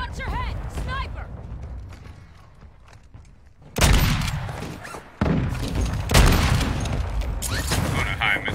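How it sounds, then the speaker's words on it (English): Mortar strikes in the video game Warzone, a few loud booming blasts with rumbling tails that land one after another amid ongoing gunfire noise. "That mortar was hitting up there."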